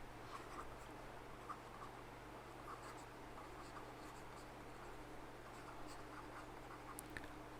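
Faint scratchy strokes of writing an equation on a board during a classical mechanics lecture, intermittent soft scrapes and taps against a quiet room hum, with no speech.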